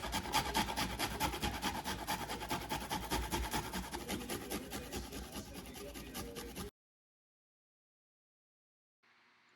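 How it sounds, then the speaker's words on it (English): Garlic cloves are rubbed quickly across a grater, a dense rapid scraping rasp that runs continuously for several seconds, then stops abruptly and leaves near silence. "Then I'm just going to smash and grate a few cloves of garlic."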